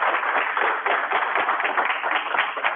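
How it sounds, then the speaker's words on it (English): Audience at a lecture on Chinese calligraphy gives a round of applause, steady dense clapping throughout, moderately loud and close, without pauses. "If we can give them another round of applause."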